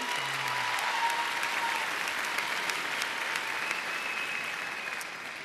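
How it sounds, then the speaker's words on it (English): Graduation audience applauding at a fall commencement ceremony, a dense, steady wash of many hands clapping that holds evenly throughout and tapers slightly at the end. "Give them a round of applause"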